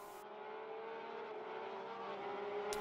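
Porsche Supercup race cars lapping the Monaco street circuit, their engines a steady sustained roar throughout, heard from a broadcast vantage with no talk over it.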